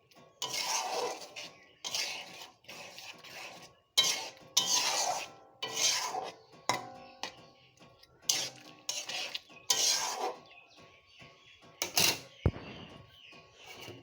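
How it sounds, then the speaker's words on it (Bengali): Garlic prawns with ghee stirred in a pan with the heat off: repeated rasping scrapes of a spatula across the metal, close and in irregular strokes, with a sharp clink near the end and no talk. "গ্যাসটা বন্ধ করে দেব, দিয়ে একটু নাড়াচাড়া করে দেব।"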